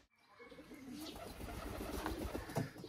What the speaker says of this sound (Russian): На территории санатория голуби вот есть.